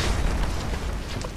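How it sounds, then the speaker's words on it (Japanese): A heavy explosion in Final Fantasy VII Remake rumbles as a sustained, deep roar of blast and debris that fills the whole moment without any voices. "爆発が派手すぎねえか。"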